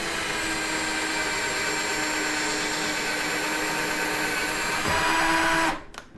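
A Pulituo cordless drill fitted with a small bit bores a pilot hole, its motor whining in a steady, loud, continuous drone that shifts briefly near the end before cutting off abruptly.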